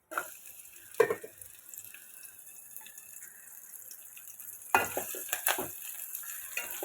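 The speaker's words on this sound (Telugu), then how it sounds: "ఇదండి నూనె విడిగా పెట్టాను మెత్తళ్ళు వేపుతున్నాను" Small dried fish (mettallu) frying in oil, a steady close hiss with clinks of stirring, growing louder and busier near the end.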